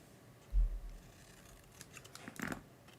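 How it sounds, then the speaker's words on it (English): Paper section being miter cut with scissors while making colour treat boxes: one firm snip near the start, then a few lighter, quicker cutting clicks, close and fairly quiet. "And then miter cut this outside section here."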